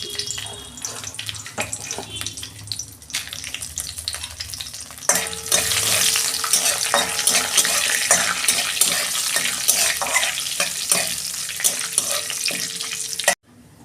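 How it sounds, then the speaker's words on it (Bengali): Two bay leaves, three dried red chillies and Bengali five-spice crackle in hot oil left over from frying hilsa fish. A steady, close sizzle swells louder about midway, keeps bubbling, then cuts off abruptly. "ওই তেলের মধ্যে আমি 2টো তেজপাতা, 3টে শুকনো লঙ্কা আর 5 ফোড়ন দিয়ে দিচ্ছি।"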